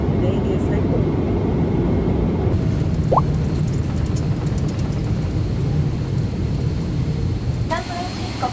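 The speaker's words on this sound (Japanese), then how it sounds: "サンフランシスコ国際空港に着陸いたしました。" An ANA airliner lands at San Francisco International Airport, a loud, steady cabin roar of engines and rolling rumble continuing throughout, with a brief chime near the end.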